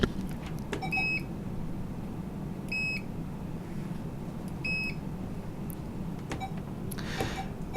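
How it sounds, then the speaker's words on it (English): Barcode scanner at a convenience-store point-of-sale register beeping as items are scanned, sharp short electronic beeps at irregular intervals over a steady low hum of store noise. "To begin a sale, you'll need to start off by scanning your items in."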